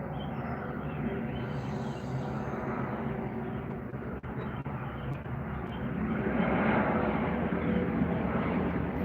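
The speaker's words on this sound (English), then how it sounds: "it's the most planes I've ever seen fly over the house since COVID" A steady low roar of an airplane passing overhead, growing somewhat louder toward the end, with no talking.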